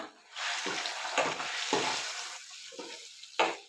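Ingredients for egg gravy sizzle in a pan, with a steady frying hiss broken by several sharp scraping stirs at an uneven rhythm, close up and with no voices.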